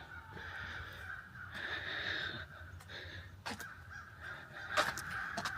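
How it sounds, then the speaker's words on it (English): Crows cawing repeatedly outdoors, harsh calls at moderate distance over a low rumble of background noise, with a louder, closer caw near the end. "Serious crows this morning."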